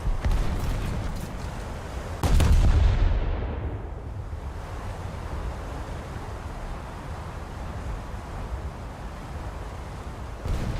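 Naval gunfire from a US cruiser in a World of Warships-style game: one heavy, booming salvo that rolls into a long rumbling decay, set against a steady wash of sea and wind noise, with no voices.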